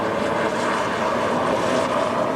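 A steady, loud helicopter engine drone with a broad rumbling roar, holding constant as it passes overhead at an outdoor concert.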